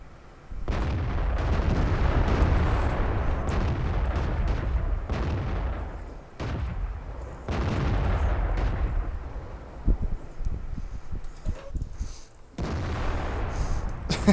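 Tank guns firing in World of Tanks produce heavy, booming blasts with long rumbling tails. Several sustained roars alternate with brief quieter gaps, and there is no speech.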